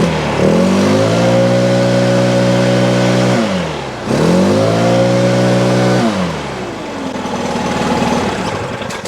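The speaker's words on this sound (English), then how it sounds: "I'll rev it for a little bit." A backpack leaf blower engine revs hard twice, each burst holding a steady high whine before dropping back, then settles into a lower, rougher run, loud and close with no talking.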